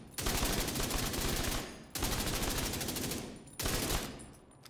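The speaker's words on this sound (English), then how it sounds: "let's look at the honey badger and fire that a little bit" Honey Badger rifle fired in The Division 2, three sustained bursts of rapid automatic gunfire, each lasting a second or more with brief pauses between, dense and fairly close, with no talking.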